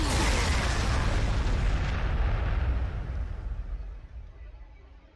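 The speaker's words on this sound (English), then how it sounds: "we'll throw some frag down here just in case there's anything else nearby" Frag grenades go off in Warhammer 40,000: Sanctus Reach, a dense roar of overlapping explosions that stays loud for about three seconds and then rumbles away into fading echoes.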